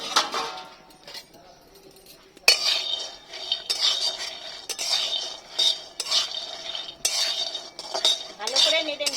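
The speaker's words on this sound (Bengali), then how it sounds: "বাদামগুলো শুকনো কড়াই নেড়ে নেব," Peanuts dry-roasted in a wok with no oil, stirred so they rattle and scrape against the metal in repeated close bursts, after a quieter opening stretch.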